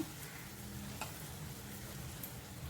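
A raw mango jam with jaggery and asafoetida is stirred in a pan, giving a soft, steady sizzle with faint scraping, quiet and close, with no voices.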